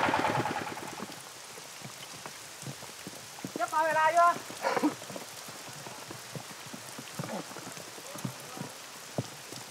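Heavy rain in the Vietnamese mountains patters steadily on surfaces with scattered drops, a brief squeaky whine in the middle, and a voice speaking over the downpour.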